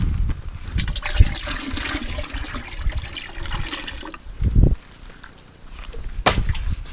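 Water splashes and trickles into a container for several seconds, with a brief louder gush near the end and a few clunks.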